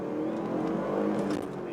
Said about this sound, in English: just get on it a little bit so you can kind of hear the turbos